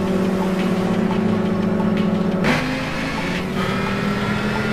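A Ford Focus race car in Gran Turismo 5 holds a steady, humming engine note on the starting grid, then the pitch drops abruptly partway through while the engine keeps running.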